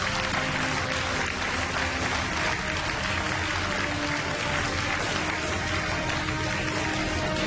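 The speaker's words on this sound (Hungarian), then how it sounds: "Ötös nagy tapsot kérünk szépen." An audience at the Miss Hungary 2014 beauty pageant applauds a contestant, a dense, even wash of many hands clapping at a steady level throughout, with no voices over it.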